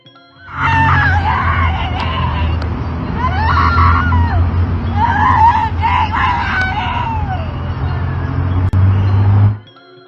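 A woman in Seattle screams and wails loudly in repeated rising and falling cries as police try to take her to a hospital, over a steady low background rumble, in a phone recording posted to TikTok.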